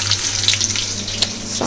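Cumin seeds and onion hitting hot oil in a pan, a loud close sizzle with crackling spits lasting under two seconds.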